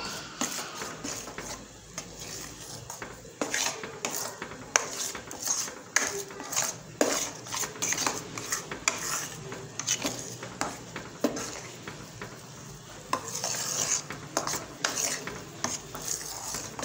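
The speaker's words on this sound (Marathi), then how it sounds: "एकदम बारीक गॅस ठेवायचा, मस्तपैकी असं सारखं सतत हलवत राहायची" A spoon scrapes and stirs besan roasting in ghee in a pan over a very low flame, giving soft, irregular scraping and tapping strokes that are quiet and close.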